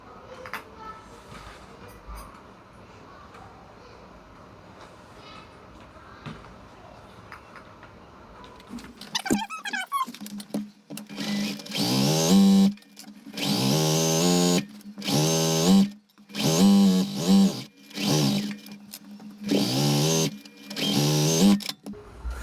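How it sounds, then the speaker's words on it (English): Sewing machine stitching a quarter-inch pillowcase seam, with quiet handling and faint rumble at first, then loud rhythmic mechanical bursts of stitching that start and stop repeatedly. "I'm going to sew a 1/4 inch seam from the top to the bottom"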